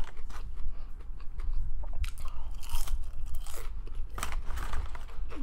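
Crunchy Golden Chick fries are chewed close to the mic, with repeated crisp crunches and wet mastication sounds in an irregular rhythm, and no one speaking.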